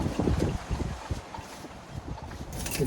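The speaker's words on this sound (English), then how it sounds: "Very windy outside today." Strong wind buffets outdoors near a boat by the sea, a rough, gusting rumble with microphone buffeting that swells and eases without pause.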